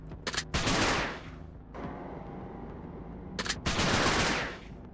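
Rapid bursts of video-game gunfire firing silver bullets in a village full of evil spirits, two loud sustained volleys separated by a quieter stretch of lingering echo and rumble.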